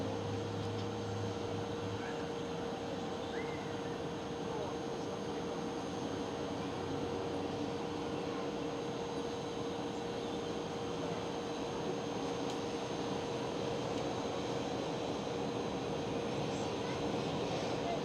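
A KLM Cityhopper Embraer E195-E2 at Schiphol airport shows as a faint, far-off, continuous engine rumble with a low steady hum, unchanging across the whole stretch.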